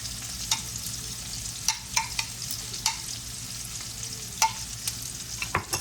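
Ribeye slider patties sizzling steadily in a pan, with a constant close frying hiss broken by a series of sharp pops and spatters, and no voices.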